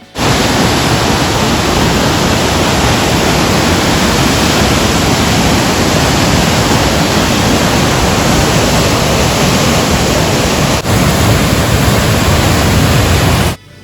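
Water rushes steadily and loudly over the upper falls at Johnston Canyon in Banff, a dense, unbroken roar that continues without pause from start to finish.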